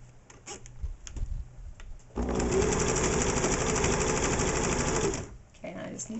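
A Singer Futura 900 sewing and embroidery machine runs in a steady, rapid stitching whir for about three seconds, close and loud, framed by quieter clicks and handling before and after.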